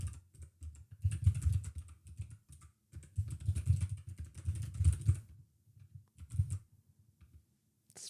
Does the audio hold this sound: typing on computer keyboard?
yes